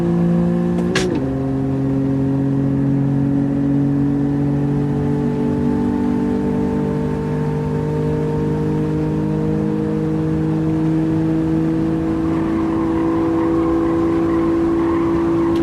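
Race car engine in the video game Gran Turismo 7, a steady loud drone with layered harmonic tones held alone throughout, following a brief sharp blip near the start.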